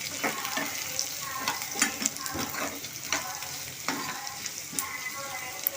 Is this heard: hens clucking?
no